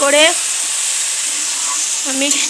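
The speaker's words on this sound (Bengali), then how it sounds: "তারপর আগে থেকে ভেজে রাখা সয়াবিনগুলো দিয়ে দিলাম।" Pre-fried soybean chunks sizzle in a pan, giving a loud, constant frying hiss that continues under brief bits of speech at the start and end.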